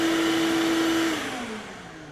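A household vacuum cleaner, switched through a control strapped around its hose, hums loudly and steadily with a clear motor whine, then winds down as the pitch slides lower.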